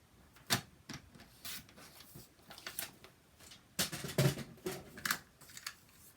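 Card stock being cut with scissors for a handmade SVG card, with a run of crisp snips and slicing strokes, some sharp and close, coming in irregular bursts with no talking.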